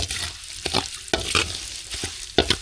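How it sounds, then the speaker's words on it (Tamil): A tempering of cumin, curry leaves and asafoetida sizzles as it is stirred into sambar, steady frying hiss broken by several sharp spoon scrapes against the pot. "தாளிப்பு கூடவே பெருங்காயத்தூள் சேர்த்துக்கலாம் சேர்த்து நல்லா கலந்து விட்டுடலாம்"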